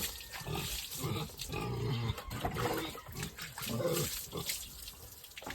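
Pigs on a small farm grunt and snuffle amid steady background noise that sounds like running water, a dense continuous mix with no clear pauses.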